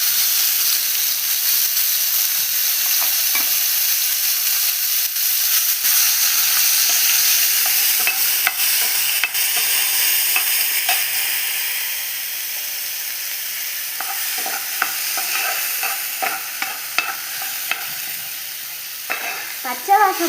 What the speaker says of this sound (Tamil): பச்சை வாசம் போகிறதுக்கு நம்ம வதக்கணும்.